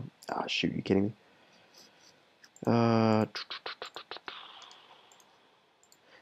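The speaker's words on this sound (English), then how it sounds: "I apologize if you can hear my mouse clicking in the background." Sharp computer mouse clicks during a Minecraft survival session: a quick run of separate clicks, then a dense rattling burst and a regular series of close clicks, mixed with brief exclaimed speech.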